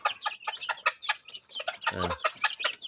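RTL chicks and hens cluck and chirp in a busy, close chorus of short rapid calls, with one louder harsh squawk partway through.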